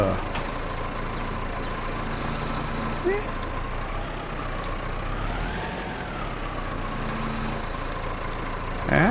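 A tractor idles in the Farming Simulator 25 video game, a steady mid-pitched engine drone that stays even for about nine seconds, with a slight waver in tone partway through.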